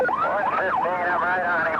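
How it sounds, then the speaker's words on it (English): Police sirens wail during a car chase, heard from a helicopter over Denver: a warbling, sweeping tone runs continuously and fairly loud while a voice speaks over a radio. "You can hear the sirens in the background."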